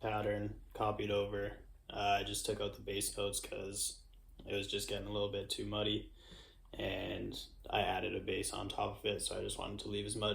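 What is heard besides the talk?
No everyday noises stand out.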